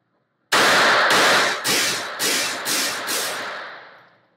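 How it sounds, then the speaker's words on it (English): Beretta Model 21A Bobcat pocket pistol fired as fast as possible at 15 feet on a range: six sharp shots in quick, even succession, loud and close, each with a short echoing decay. "Then I went to 15 feet again just to try to shoot as fast as I could."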